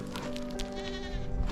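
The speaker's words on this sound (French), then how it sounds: "Les moutons sont arrivés du midi pour profiter des alpages de montagne." Sheep on a high mountain pasture in the Oisans massif bleat loudly and close by, one long wavering call over the murmur of the flock.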